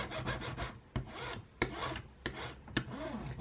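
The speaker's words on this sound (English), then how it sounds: "I have this squeegee that I use to burnish it better than with my fingers" Squeegee burnishing a vinyl decal onto an acrylic keychain blank, heard as soft, close scraping rubs in short repeated strokes with a few sharper clicks between passes, quiet and alone.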